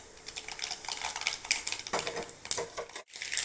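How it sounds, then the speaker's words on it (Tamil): Mustard seeds sizzling and popping in hot oil in a kadai, a dense crackling hiss with sharp bursts of spattering, close and fairly loud, with a brief lull near the end. "கடுகு போட்டுக்கிறேன்."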